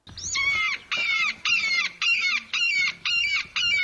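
Chickens and roosters in a chicken coop give a rapid series of about eight loud, evenly spaced clucking squawks, close and clear against faint background noise, with no voices.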